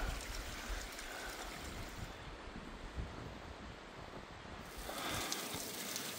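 Steady broadband rush of a waterfall beside a ledge on an alpine climbing route on Ailefroide Occidentale, a close, continuous roar of falling water that swells slightly louder near the end, with no voices.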